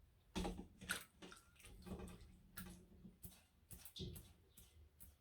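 Wet hands dip and slosh in a bowl of water while shaping hand-formed sushi nigiri in a kitchen, giving soft, irregular splashes and drips, quiet and close with no talking.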